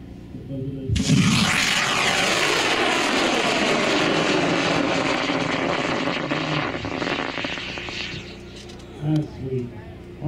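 A two-motor cluster model rocket launches with a loud, sustained roaring rush that fades as it climbs away, with voices and cheering near the end.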